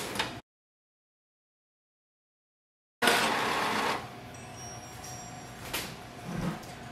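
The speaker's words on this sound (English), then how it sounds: "So wait for the printer." An HP Smart Tank 7602 inkjet printer prints a photo after a brief silence, with a whirring, rhythmic mechanical drone of the print head and rollers, nearby and steady, with occasional clunks from the paper feed.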